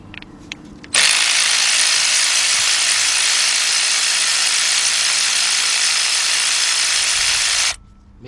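A cordless impact tool runs in one steady burst of nearly seven seconds, breaking loose a spark plug on the 4.6 V8 of a 2004 Ford Expedition, loud and close with no talk over it.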